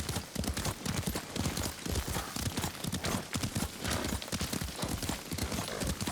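Horse hooves clop in a quick, steady galloping rhythm as a rider travels on horseback in the video game Ghost of Tsushima, loud and continuous throughout with no talking.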